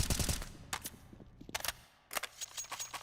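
Rapid bursts of video game gunfire during a professional esports match, crackling in several loud volleys separated by brief lulls.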